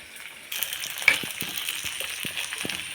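Onions frying in a pan for an onion and garlic kuzhambu flare into a sizzle about halfway through, which then settles into a steady close crackle with scattered soft pops. No one is speaking.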